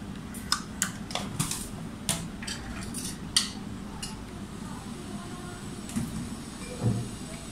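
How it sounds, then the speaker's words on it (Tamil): A utensil stirs a thickening milk sauce in a pan for chicken lasagna, making a string of irregular light clinks and scrapes against the metal over a low background hum. "இப்போ நல்லா திக் ஆகங்காட்டி கிளறுவேன்"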